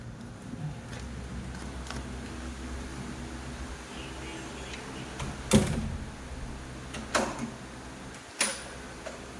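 Door opening, a few sharp clicks and knocks of the latch and frame spaced over several seconds, close by against a quiet room hum.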